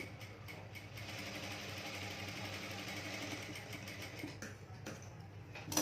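Sewing machine running steadily while double stitching a blouse, a continuous near mechanical whir with a few brief pauses and a slight rise at the end.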